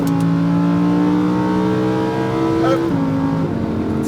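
Lamborghini Huracán pulling hard on a race track, its engine note climbing steadily through the revs with a gear change near the end, loud and continuous from inside the car.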